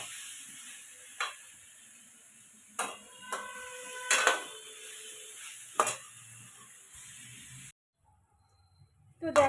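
Spice paste for a duck curry fries in a pot, giving a faint steady sizzle broken by several sharp scrapes and clinks of a spoon stirring against the metal, before a sudden near-silence and one last clatter.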